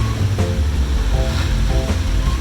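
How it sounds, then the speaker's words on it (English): Rough sea waves where the Atlantic enters Fisher's Island Sound off Watch Hill Point, a loud continuous wash of surf and rushing water heard from a moving boat, with engine drone underneath. "Seas are pretty rough right here."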